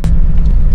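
Suzuki Every DA17 automatic turbo minivan on the move, heard as a steady, close low engine and road rumble that holds evenly through the short stretch, with no talking over it.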